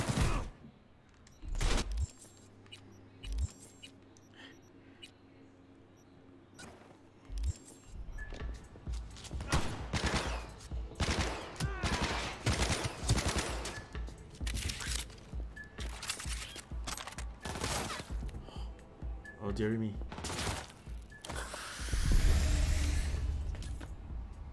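Gunfire in Cyberpunk 2077 on PS5: rapid, loud shots and bursts pile up across the middle of the clip, punctuated by clatter and impacts, ending in a dense noisy roar, with no talking over it.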